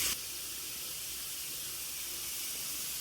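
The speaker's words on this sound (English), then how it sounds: "You want a steady stream of steam, and you want this to vent for 10 minutes." A pressure canner vents steam with a steady, loud hiss under pressure, continuous and even throughout, with no voices.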